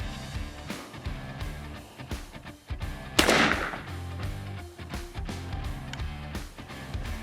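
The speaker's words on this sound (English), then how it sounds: "is going to be a perfect shot for this little 410" A single sharp report from a small .410 shotgun fired at a target about 20 yards away, loud and close, with an outdoor background before and after.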